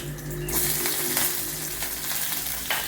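Fenugreek seeds, a dried red chilli and shallots frying in hot oil, a dense, bright sizzle that jumps louder after the first moment, with a few faint clicks, close and steady with no speech.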